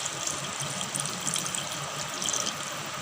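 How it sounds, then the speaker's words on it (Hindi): Half a cup of water poured into simmering matar paneer gravy, a steady rushing, splashing pour that fills the whole short stretch at moderate loudness with no talk over it. "अब हम इसमें डालेंगे"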